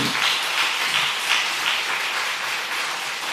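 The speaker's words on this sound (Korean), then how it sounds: "한 번 더 격려 축복의 박수 주시길 바랍니다." A church congregation applauds at the close of a Korean Sunday afternoon service, a steady, dense wash of many hands clapping together for a few seconds with no voices over it.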